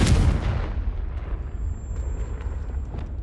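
Confringo blasting spell cast in the Hogwarts Legacy video game, a loud booming blast at the start that decays into a rumbling tail with scattered crackles, no voices.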